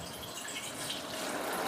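A kitchen sink tap runs into a white scratch-proof sink, a soft, steady splashing rush of water that continues without a break, quiet and close.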